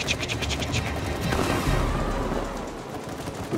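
Rapid bursts of gunfire from It Takes Two, a fast clatter of repeated shots up close, followed by a heavier rumbling blast as the firing trails off.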